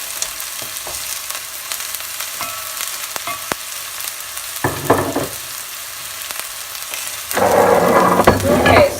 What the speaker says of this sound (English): we'll let them fry for a minute or so. You have to keep on stirring.